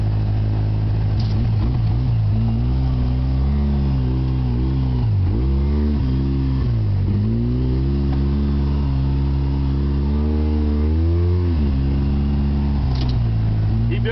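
A Polaris RZR 800 side-by-side engine drones loud and close on a rough dirt track, its pitch rising and falling through repeated revs and throttle changes.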